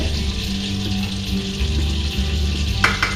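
Onions and garlic frying in a pan give a steady, close sizzle that holds the whole time, with a couple of sharper crackles near the end and no voices.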